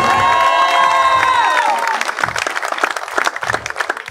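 A crowd at an outdoor political rally in Bonfil, Michoacán, claps and cheers loudly, with a sustained tonal horn or whistle chord at the start that fades, followed by continuing applause and scattered shouts.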